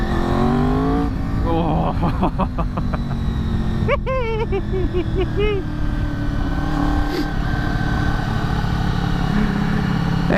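Honda VFR 800 motorcycle ridden at speed, a steady loud engine drone with a rising gear whine and rev changes, wind roar throughout, and a brief voice.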